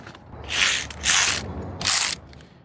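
A ratchet wrench loosens a 13 mm tensioner bolt on a Ford Ranger engine during engine removal. Three loud, close bursts of rapid clicking sound alone, separated by brief pauses.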